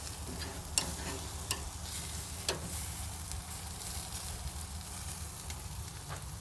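Burgers and shrimp sizzle steadily on a smoky barbecue grill, a continuous crackling hiss with a few sharp pops and ticks, close and alone without talk.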